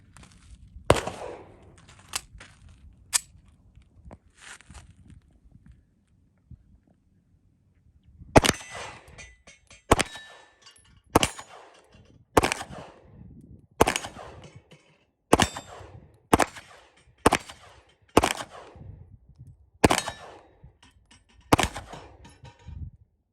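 A 2022 FN High Power pistol fires a series of sharp shots at steel targets, each crack followed by a metallic ring; about a dozen loud, evenly spaced reports, sparse at first then in a quicker string.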